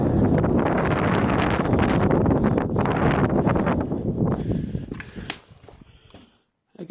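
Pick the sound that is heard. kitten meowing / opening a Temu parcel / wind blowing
wind blowing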